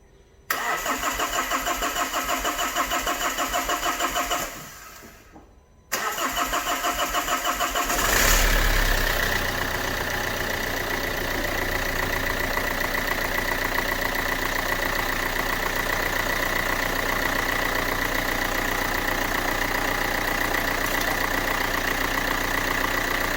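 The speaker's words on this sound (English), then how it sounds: "If you see the engine vibrating an awful lot while I'm trying to start it" A car engine, just refitted after swirl flap damage and a subframe refurbishment, cranks and fires after a brief pause, then settles into a loud, steady idle that continues close by without talking.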